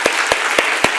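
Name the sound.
congregation applause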